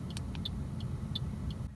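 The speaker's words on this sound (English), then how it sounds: "And then I'm gonna put on my turn signal." Regular clicking of a car's turn signal inside the cabin, several evenly spaced ticks over a steady low road and engine rumble, with no talking.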